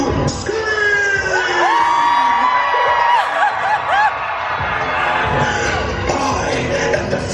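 A large crowd screams, whoops and cheers at a Halloween Horror Nights 2021 theme park event: a loud, sustained roar with sharp yells rising out of it.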